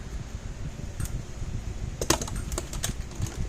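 A Gallagher M300 electric fence charger under repair ticks with sharp, irregular clicks over a steady hum from a nearby fan, with a few louder snaps clustered together and no voices.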